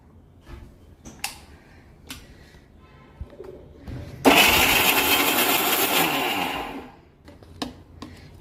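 A kitchen mixer grinder whirs loudly for about three seconds, grinding food for a mushroom biryani, with faint clicks and soft background sounds before and after.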